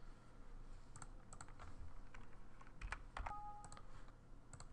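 Light keystrokes tap on a computer keyboard in an irregular typing rhythm, faint and close, with no voices.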